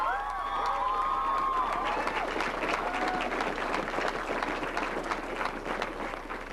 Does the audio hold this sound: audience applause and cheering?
yes